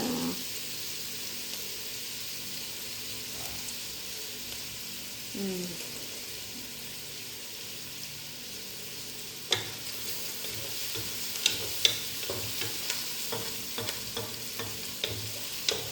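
Pilau rice being stirred in a pot, a soft continuous scraping and sizzle with scattered sharper clinks of the spoon in the second half, quiet and close.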